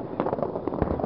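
A New Year 2010 fireworks display, set off in honour of a friend's engagement, bursts in a rapid, crowded volley of sharp crackles and bangs at close range, with little letup.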